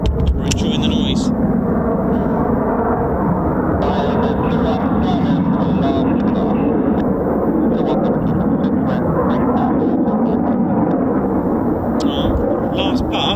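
Military jets fly high over the RAF Holbeach air weapons range during live combat training. A loud, continuous, broad roar fills the scene, and someone talks over the noise.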